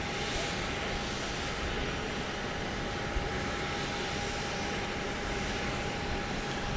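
Fixed-wing airplane on approach to land at Dallas Love Field airport at night, a steady, distant engine roar lasting throughout with a constant hum underneath and no voices.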